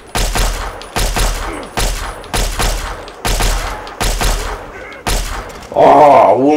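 Rapid bursts of gunfire from Fallout 3, seven or so loud shots in a steady rhythm with heavy low thumps, followed by a groaning voice at the end.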